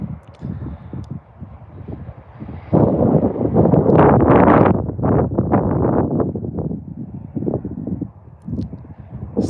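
Strong outdoor wind buffets the microphone at an off-grid site, a loud rumbling roar that swells sharply partway through and then eases slightly, with no voices.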